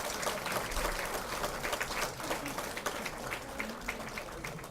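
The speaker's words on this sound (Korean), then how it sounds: "다시 한번 뜨거운 박수로 환영해 주시기 바랍니다." Dense applause and scattered cheering from party members welcoming Seo Chung-won, a party leadership candidate, at a campaign rally in Incheon, steady and sustained for several seconds.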